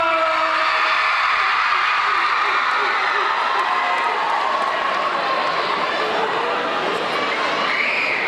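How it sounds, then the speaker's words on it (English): A crowd at a university pep rally for a fraternity at the University of Arkansas at Pine Bluff cheers and claps in a dense, continuous roar, with shouts and chatter mixed throughout. "Let's give these brothers a big, big, big round of applause."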